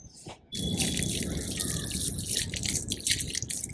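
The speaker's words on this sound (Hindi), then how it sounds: "मिट्टी को थोड़ा सा पानी लगाकर नम कर देंगे" Water is poured onto potting soil mix in a filled grow bag to moisten it, giving a steady trickling splash that starts abruptly after a short quiet moment and runs on for about three seconds without talk.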